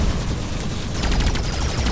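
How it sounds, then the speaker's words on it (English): A huge explosion in the video game Arc Savior, a dense, loud roaring blast with crackling gunfire-like bursts that sustain across the whole moment, no talk over it. "Well, that was a huge explosion."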